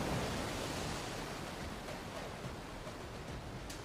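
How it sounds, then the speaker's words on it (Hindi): Ocean waves off the shore at Puri roar as a steady, dense, broadband wash with no distinct breaks, loud and continuous throughout without any voices. "तभी समुद्र की लहरों ने एक भयंकर गर्जना की।"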